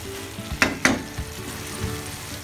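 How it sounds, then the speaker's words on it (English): Tawa chicken masala cooking in ghee on a tawa gives a soft, steady frying hiss, broken by two sharp utensil scrapes close together and a few duller taps. "Now put 1 teaspoon of ghee. Let it cook for around 5 minutes more."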